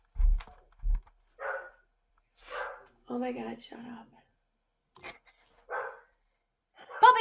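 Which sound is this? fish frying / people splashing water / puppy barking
puppy barking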